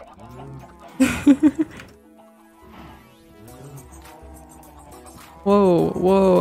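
Minecraft chickens being thrown, a quick cluster of loud clucks and squawks, then another loud burst at the end, with a voice talking in between.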